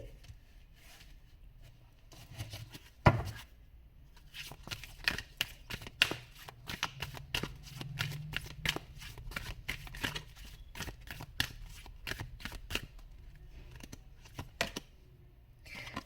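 Tarot cards are shuffled and riffled in a run of quick, crisp flicks and rustles, with a brief louder snap near the start, close up and alone without talk.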